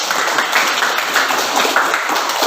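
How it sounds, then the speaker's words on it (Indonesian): A classroom of students applauding a classmate, steady dense clapping close by that holds for a couple of seconds. "Tepuk tangan buat teman kita."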